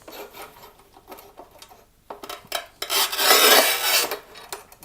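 A cutting machine slicing through material, rising from scattered scraping and rubbing noises into a loud, sustained screech near the end, heard up close without talk.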